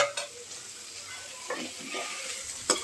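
Ivy gourd (dondakaya) fry cooks in a pan with a soft, steady sizzle, faint and close, broken by a few brief stirring scrapes and clinks.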